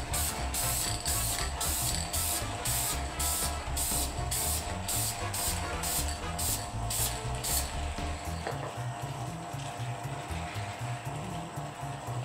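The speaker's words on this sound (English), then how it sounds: "I'm going to spray it with this Krylon Satin Clear Color Master" A steady, loud hiss of an aerosol can of Krylon Satin Clear Color Master clear coat spraying continuously, with a faint rhythmic mechanical pulsing and low rumble underneath.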